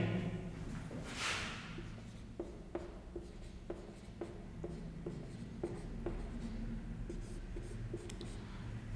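Pen scratching across paper in short, separate strokes, a series of soft close ticks and scrapes over a quiet room background, with no talking.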